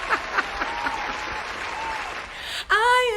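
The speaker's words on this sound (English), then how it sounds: "make a big round of applause for our boy, Durante." An audience applauds a guest on a talk show with steady, dense clapping that fills the room, then a voice begins speaking loudly over it near the end.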